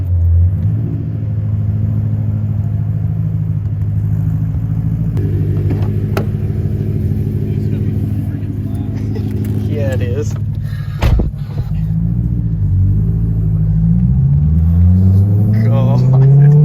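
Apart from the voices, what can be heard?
BMW E92 M3 with straight-piped loud exhaust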